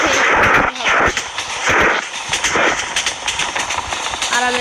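Train running at full speed in a Bangladesh train simulator game, a continuous loud rumble with rhythmic clattering pulses and repeated sharp knocks, steady throughout.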